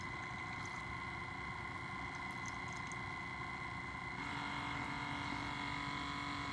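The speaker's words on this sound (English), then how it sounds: "it is a little noisy towards the end with that pump. Sounds like that pump is just running out of water" A single-serve K-Cup coffee maker's pump runs low on water, giving a steady, noisy, sputtering whir that carries on throughout and grows slightly louder near the end, with no voices.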